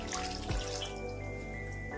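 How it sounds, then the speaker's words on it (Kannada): Water poured into a pan of Bangalore-style brinjal curry after tamarind water, a short, close splash and trickle with a low thump near the start, then a steady wet hiss. "ಇವಾಗ ಇದಕ್ಕೆ ನೀರು ಹಾಕೊತಾ ಇದ್ದೀನಿ."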